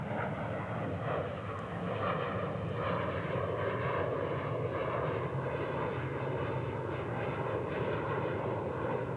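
A fixed-wing airliner in a special livery roars steadily at DFW airport, a continuous broad engine rumble holding level throughout at moderate distance.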